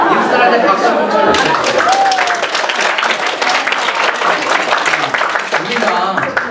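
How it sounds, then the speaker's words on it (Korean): An audience claps at a parish Lenten lecture, loud and close, a dense burst of applause mixed with crowd chatter and laughter, while a voice talks over the opening moments. "인사한테 박수 한번 쳐주세요."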